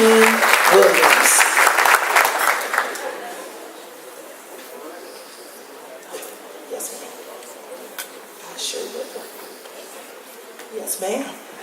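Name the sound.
gala audience applause for honoree Earl Eugene Williams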